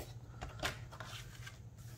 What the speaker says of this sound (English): I might as well cut my card base while I have my trimmer close by here